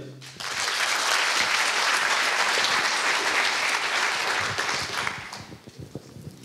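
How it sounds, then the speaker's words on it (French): Dense, loud applause from the audience at a regional final of a three-minute thesis competition greets the speaker. The clapping swells quickly, holds steady, then tapers off near the end. "Merci de l'applaudir."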